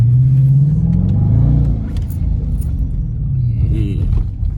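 Car pulling up at a store, a low engine rumble that eases and shifts as the vehicle slows, fairly close and loud.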